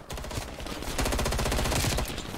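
Loud, rapid automatic gunfire in Call of Duty Cold War's Gunfight mode, sustained bursts of close shots forming a dense rattling stream.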